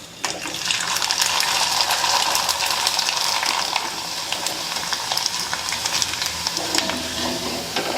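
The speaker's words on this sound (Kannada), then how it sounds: "ನೋಡಿರಿ ಎಷ್ಟು ಮಸ್ತಾಗಿ ಫ್ರೈ ಆಗ್ತಾವೆ ನೋಡಿರಿ" Rice papads crackle in hot oil with a steady, dense sizzle and scattered bubbling pops, loud and close throughout, without any voices.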